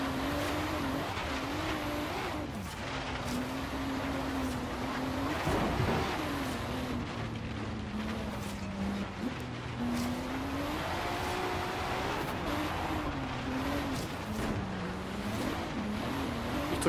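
An old Volvo with an off-road setup drives across rough terrain in Forza Horizon 3, its engine droning steadily and rising and falling in pitch throughout, with occasional tire and suspension noise.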